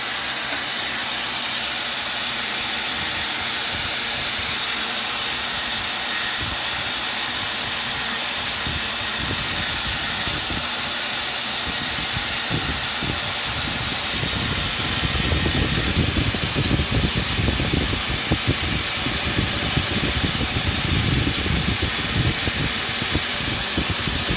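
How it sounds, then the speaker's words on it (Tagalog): A motorcycle spark plug is cleaned with a loud, continuous spraying hiss close by. Denser sputtering and rattling bursts enter about halfway through, and no one speaks. "Ayan, lilinisan niya yung spark plug."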